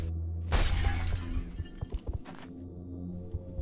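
Glass shattering inside a house in the game XCOM: Enemy Unknown: a loud crash of breaking panes, followed by scattered tinkling debris and smaller impacts against a steady game background.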